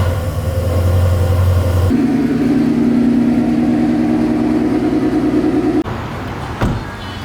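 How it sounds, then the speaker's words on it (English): A Ford Mustang engine cold-starts, settling at first into a deep rumble, then jumping to a higher, steady fast idle. The sound is loud and close, with a sudden drop and a brief thump near the end. "Cold start."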